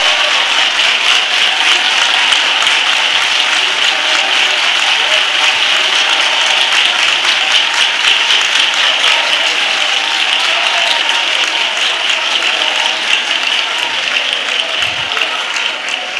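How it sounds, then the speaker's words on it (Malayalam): Sustained applause from an audience at a church sermon, dense clapping that holds steady at strong volume for the whole stretch with no break. "കൈയടിക്കുന്നെങ്കിൽ നേരെ കരങ്ങളടിക്ക്"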